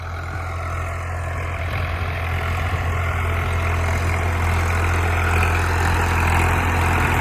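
Tractor engine holding about 1600 rpm while pulling a 13-tine cultivator, a steady loud low diesel drone with an even throb and no talk.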